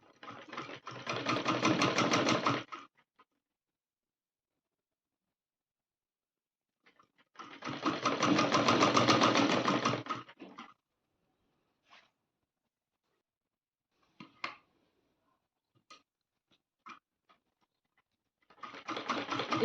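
A sewing machine stitches a folded seam on a Rajputi poshak kanchli in three fast bursts, each running a few seconds and separated by silence. Soft clicks and fabric handling fill the gaps between bursts.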